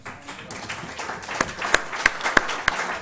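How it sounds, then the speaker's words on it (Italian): Scattered hand claps from a small audience at a film event, applauding the director and actor, thin at first and building into a light, uneven round of applause. "un applauso al regista e attore del film"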